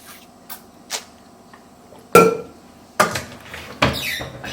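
Granola is stirred with fruit in a bowl, giving a few sparse clinks and scrapes of a utensil against the dish, with quiet gaps between the louder knocks and no talk.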